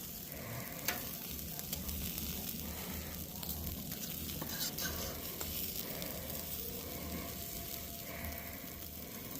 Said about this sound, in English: Nice sizzling on there.